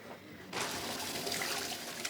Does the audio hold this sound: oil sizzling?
no